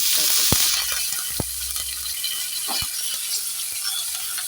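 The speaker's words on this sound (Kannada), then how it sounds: "ಒಗ್ಗರಣೆ ಸಿಡಿತಾ ಉಂಟು" Mustard seeds, urad dal and chillies splutter and crackle in hot oil for tempering, with sharp pops over a steady sizzle and a few louder clicks of a utensil.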